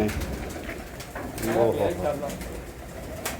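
Pigeons coo in a low rolling burble at a pigeon keeper's loft, close and clear around the middle, with someone speaking over the birds.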